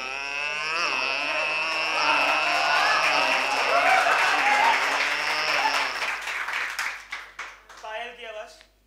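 A voice mimics a motorcycle revving in a circus well of death, the drone rising and falling continuously, with applause and crowd noise building around it before trailing off.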